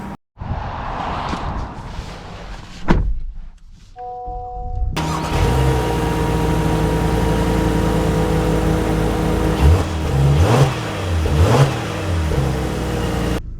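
A 2024 Honda Pilot HPD pulls away after a soft chime and a brief start-up, its mid-pitched engine note rising and settling steadily up close inside the cabin, with a couple of revving swells near the end.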